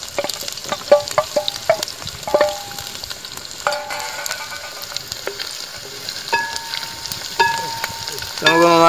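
Mango pickle ingredients with chopped ginger and carrot being stirred in a pan, a spoon scraping and clinking in an irregular rhythm over a steady background sizzle, with sharper scrapes near the end.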